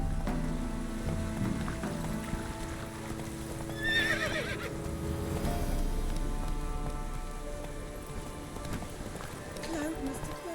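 Horse hooves clip-clop steadily while a horse neighs in The Witcher 3 on Xbox, the whinny rising around the middle over game music and faint rain, with a voice heard briefly.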